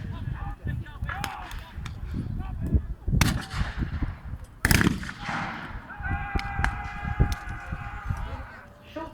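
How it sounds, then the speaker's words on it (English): Boer War battle re-enactment with 9-pounder and 7-pounder guns of a British Naval Brigade firing on a hillside: several sharp, loud booming blasts at irregular intervals, with voices, whistle-like tones and outdoor crowd noise in between. "Using a heavy artillery bombardment with 4 9-pounder guns and 2 7-pounder guns of the British Naval Brigade, pounding the Boer positions on the hill"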